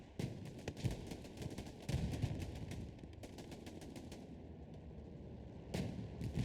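In the video game Hell Let Loose, a Greyhound armored car lays suppressing fire on a three-story house: rapid, repeated bursts of gunfire at mid distance, steady and sustained, with louder bursts near the start and end.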